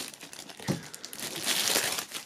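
Plastic shrink-wrap foil is pulled off a rock band's CD box set, giving close, busy crinkling and crackling that swells toward the end.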